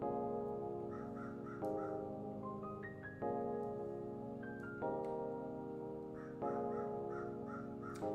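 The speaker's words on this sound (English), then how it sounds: "So if you hear a little background noise, probably the neighborhood crow." A neighborhood crow caws repeatedly in short clustered bursts, fairly close and clear, over a steady background of musical tones.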